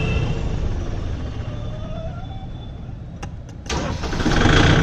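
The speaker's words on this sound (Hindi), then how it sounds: "ये स्विच से ही ट्रैक्टर स्टार्ट हो जाता है" A Kubota MU 5502 tractor with an inline fuel pump is started by switch: a low rumble, a few sharp clicks, then the engine catches and settles into a louder, steady run.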